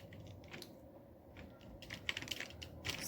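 A MySQL query is typed on a computer keyboard, quiet clicks at first that turn into faster, sharper bursts of close keystrokes toward the end.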